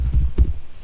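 Brief, dull keyboard typing taps close by, a handful of soft thuddy keystrokes in quick succession with no voices.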